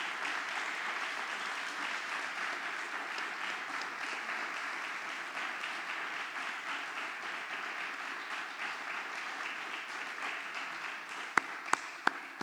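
Sustained applause fills the hall at a LIVRE party meeting of local branches, a dense, even patter of many hands heard at a distance, ending with a few louder, isolated claps.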